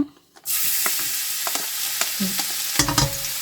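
Garlic hitting hot cooking oil in a pan for arroz valenciana, a loud steady sizzle that bursts in after a brief quiet and holds, with a few clinks of a utensil against the pan.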